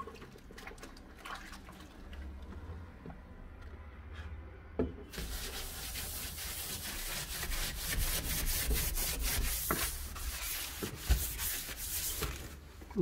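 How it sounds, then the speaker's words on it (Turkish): Steady scratchy rubbing strokes of a small piece of sandpaper on PVC window or door frame, close up, continue in a repeated back-and-forth rhythm and grow louder and coarser halfway through. "Ufak bir zımpara parçasıyla"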